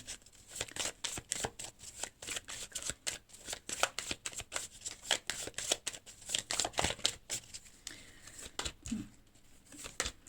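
Tarot cards are shuffled and sorted by hand close to the microphone, producing a long series of quick crisp riffles and slaps in an uneven rhythm with no talking.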